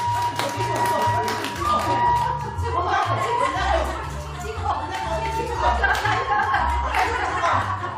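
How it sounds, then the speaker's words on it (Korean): A group clapping during a pantomime rehearsal at a hospital, loose bursts of hand claps mixed with chuckles, laughter and lively crowd chatter, and voices talking throughout. "박수! 박수!"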